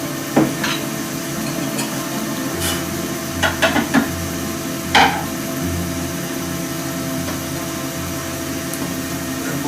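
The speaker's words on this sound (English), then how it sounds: "now I might go in with the carbide a little bit." A carbide tool cuts a hybrid shaving brush blank spinning on a woodturning lathe, a constant whirring hum with a hissing cutting noise and a few brief knocks and scrapes, close and steady.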